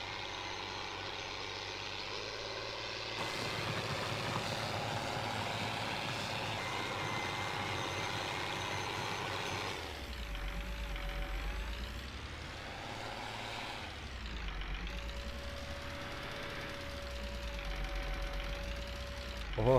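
An IMT 5136 tractor engine in Farming Simulator 19 runs steadily throughout, a continuous droning rumble with a deep low throb and rising and falling revs in the second half, and a steady tonal whine at times.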